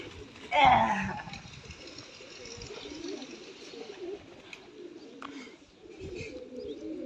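Pigeons coo softly in a low, murmuring chorus, with a louder burst of noise near the start and faint chirps scattered throughout.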